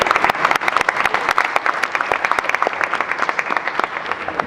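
Steady applause at a boxing press conference following Bernard Hopkins' fight with Sergey Kovalev, dense and continuous clapping filling the room with no speech over it.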